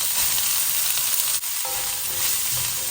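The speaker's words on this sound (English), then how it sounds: "I'm going to add the chopped up veg. The celery, carrots, onion." Chopped celery, carrots and onion sizzle steadily in hot olive oil in a pan, a loud, continuous close-up crackle with a brief dip partway through and faint clinks later on.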